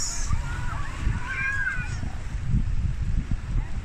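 Seawater sloshes and laps steadily at high tide at the FMB Resort in Dingalan, Aurora, making a close, continuous watery wash while a person talks faintly in the background.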